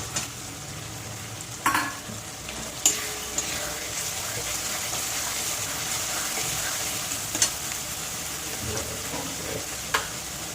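A curry with ol stalks and prawns frying in a pan with a chopped tomato stirred in, a steady close sizzle broken by occasional sharp clacks of the spoon against the pan.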